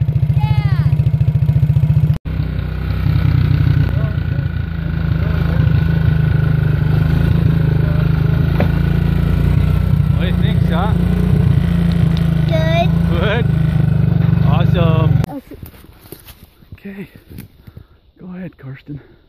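Four-wheeler engine hauling a trailer in Alaska, a loud steady low drone running for about fifteen seconds with a brief break near two seconds, then cutting off as voices talk over the fading noise.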